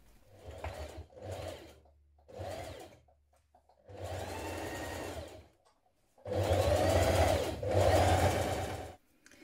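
A sewing machine topstitches two rows along a seam of a pair of jeans, running in several bursts: three short runs, then two longer ones, the last the loudest and closest.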